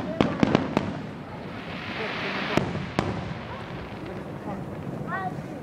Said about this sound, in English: These are some amazing fireworks.